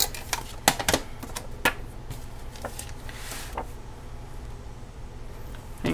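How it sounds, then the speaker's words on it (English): Tape being pulled and pressed down to fix paper into a mixed-media vintage journal, a few sharp crackles and taps early on and then quieter handling, close by with no speech. "I'm just going to tape this up and put it down."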